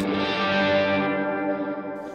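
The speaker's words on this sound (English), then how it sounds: "And then right here I have another reverb, a dynamic hall." Sustained electric guitar chord ringing out through a dynamic hall reverb pedal, slowly decaying into a lingering tail.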